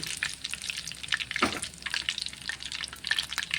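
Chicken leg pieces fry in hot oil, giving a steady crackling sizzle with busy bubbling throughout and a brief louder stir near the middle; close and fairly quiet, no voices.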